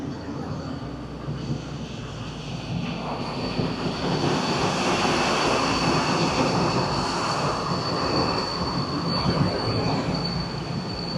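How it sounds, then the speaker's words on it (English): Steady, broadband mechanical rumble and hiss from a ship's ventilation system aboard the Carnival Glory cruise ship, continuous and fairly loud, with a faint high whine running through it. "Please excuse the noise from the ventilation system."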